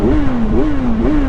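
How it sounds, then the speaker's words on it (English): A Kawasaki Ninja 1000SX motorcycle engine revs up three times in quick succession, loud and close, each burst climbing then settling back to a steady idle. "Let's get some revs in here."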